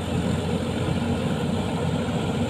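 A six-cylinder, 360 hp diesel engine on a ten-wheel earth-hauling truck works soil in the evening, giving a steady, moderately distant low rumble that holds throughout.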